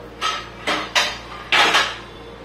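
Four quick metallic scrapes and knocks of a utensil against a pan as grated fresh coconut and butter are stirred together, close and distinct with short pauses between strokes.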